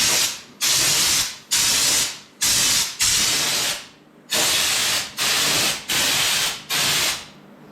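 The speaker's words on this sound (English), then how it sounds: "when you're spraying this, you're just going to put a nice light coat on" A spray gun sprays bed liner coating onto a vehicle accessory in nine or ten quick bursts of loud hissing in a steady rhythm, each separated by a brief pause.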